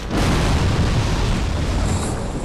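A Dark Souls 2 bomb explodes in a co-op game, a loud, dense roaring blast that fills the whole moment and rumbles on steadily for a couple of seconds.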